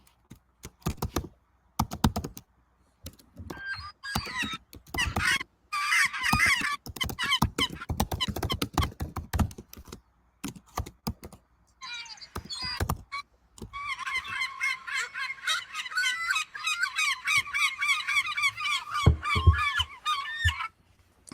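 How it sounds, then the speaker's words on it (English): Seagull calls ring out in rapid, shrill squawking bursts, fairly close and loud, with sharp clicking noises scattered between the bursts and no talking. "Now let's hear a seagull."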